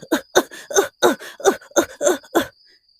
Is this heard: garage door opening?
no